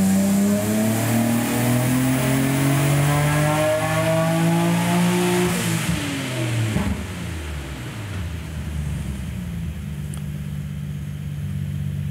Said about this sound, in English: Now let's run up the car.